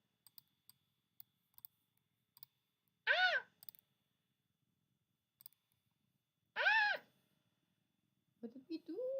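A computer mouse clicks in sparse, crisp single taps at an uneven pace, quiet and close, while a person speaks in short bursts between the clicks.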